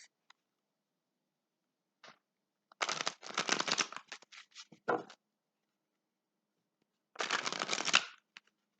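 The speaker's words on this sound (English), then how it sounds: "Give these things a couple more quick shuffles." A deck of cards shuffled in two quick riffling bursts, crisp and close, with a few small taps in between and silence around them.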